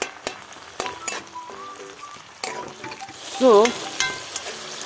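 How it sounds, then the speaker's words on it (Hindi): Tomatoes and onions fry in a pan with a low sizzle under repeated stirring clinks and spoon scrapes, swelling briefly louder toward the end, with a short spoken word and faint tonal sounds in the background. "अभी साथ में टमाटर को भी डाल देना है। तो दोनों को पहले बहुत अच्छे से पका लेना है।"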